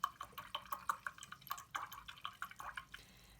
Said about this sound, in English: I'm going to rinse my brush out really good here